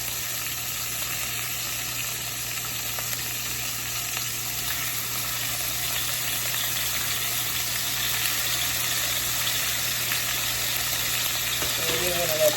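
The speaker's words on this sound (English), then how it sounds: "we're going to be frying our bacon, and I did put some vegetable oil in the bottom of our pan" Bacon fries in vegetable oil at the bottom of a pan, giving a constant soft sizzling hiss with faint popping, steady and fairly quiet, without talk.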